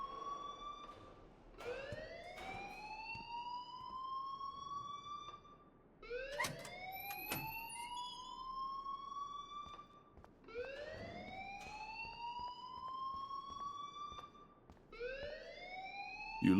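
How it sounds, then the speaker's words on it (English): A fire alarm rings in the video game Life is Strange. Loud rising electronic siren sweeps repeat about every five seconds, with no speech over them. "please turn off that alarm since that's your job"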